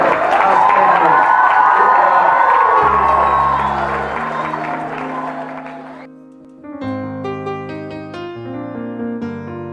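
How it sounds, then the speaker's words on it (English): A live show audience applauds and cheers for Jeffrey Sapp, a loud wash of clapping and whoops that fades after a few seconds into a music sting with sustained tones. "Give yourself a round of applause"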